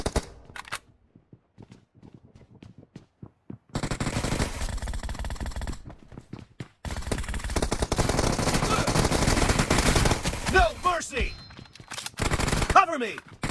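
Silenced QBZ assault rifle from PUBG Mobile fires in sparse taps at first, then breaks into long sustained bursts of close, muffled automatic fire, with brief gaps and scattered clicks and game effects.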